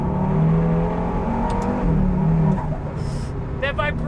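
A KTM X-Bow GT-XR's Audi 2.5-liter engine drones loudly from inside the cabin, with a steady low growl holding throughout and a few brief higher chirps near the end.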